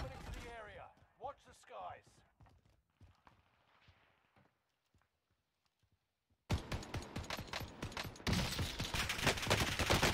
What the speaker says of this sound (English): My gun just doesn't shoot fast enough.